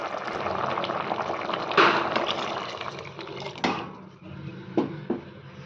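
Water is poured into a pot of upsaaru made with fresh field beans, greens and ground paste: a gurgling, splashing pour up close, followed by a few sharp utensil knocks and quieter bubbling, with no speech.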